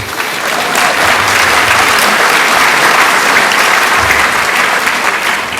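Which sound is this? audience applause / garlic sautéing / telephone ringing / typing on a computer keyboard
audience applause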